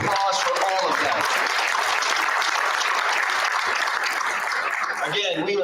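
Sustained applause at a school board of education meeting honoring high school girls volleyball players, a full room clapping steadily with voices talking over it at the start and end.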